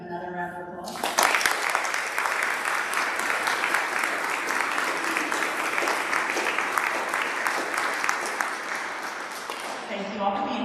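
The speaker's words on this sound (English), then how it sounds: "Can we give them another round of applause?" An audience gives a round of applause for 8th grade speakers at a school speech event, a loud sustained wash of clapping that starts abruptly after a brief voice and fades as talk resumes at the end.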